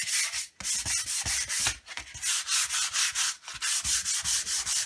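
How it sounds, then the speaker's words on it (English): Rhythmic hand sanding on a hard painted surface, steady back-and-forth rasping strokes repeating close up with brief pauses, no voices. "I'm going to finish sanding this"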